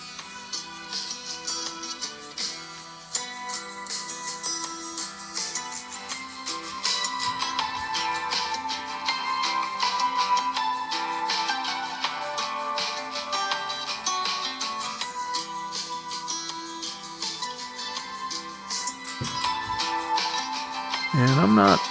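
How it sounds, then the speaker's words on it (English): Music plays through a phone's small speaker, first without and then with a wooden stand, and grows noticeably fuller and louder partway through. The playback stays steady and continuous throughout. "I start some music on the phone."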